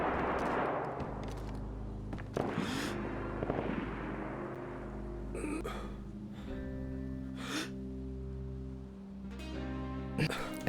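Several sharp gunshot bursts in the video game DayZ, set in vanilla Chernarus, crack out at irregular intervals over a steady low in-game drone, spaced a few seconds apart and moderately distant.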